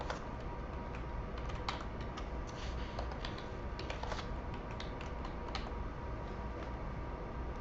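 Fingers type a password on a computer keyboard: a run of quick, irregular key clicks close by and quiet, over a steady low background hum.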